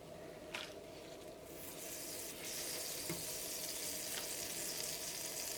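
Buttered bread slices toast in a hot pan, a steady close sizzle that grows louder and brighter after a couple of seconds, with a few faint clicks along the way.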